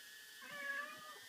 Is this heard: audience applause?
no